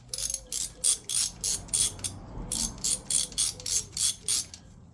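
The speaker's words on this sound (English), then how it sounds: "So we've got a 10mm socket, which is for our tacho drive." A 10mm socket on a hand ratchet loosening the tacho drive bolt on a Honda CB400T Dream motorcycle, a close, crisp series of quick clicking strokes in a steady rhythm, with a short pause partway through.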